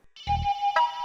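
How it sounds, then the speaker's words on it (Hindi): A phone ringtone sounds in a quiet room, a short bright electronic chime with a low buzzing pulse, loud and close, alone with no voices. "फोन चक ले, उठा ले फोन"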